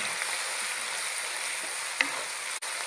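Ginger garlic paste frying with browned onions in a pan for a moong dal recipe, a steady close hiss of sizzling throughout with a single faint clink partway and a brief dip near the end.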